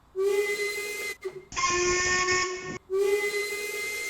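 LMS Jubilee steam locomotive whistle in the Train Sim World 2 game, a hoarse, slightly high-pitched steam whistle blown in three sustained blasts with breathy hiss, the middle blast brighter and harsher.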